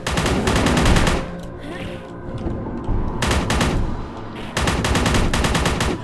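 Rapid automatic gunfire from Thompson- or MP-28-style weapons in the video game Forgive Me Father comes in loud sustained bursts, separated by brief lulls.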